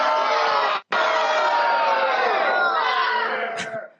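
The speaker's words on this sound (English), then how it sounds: "Good to see the cheering section still there." A large crowd cheers and shouts loudly, a dense roar of voices and whoops that breaks off for a moment and then swells again before tapering at the end.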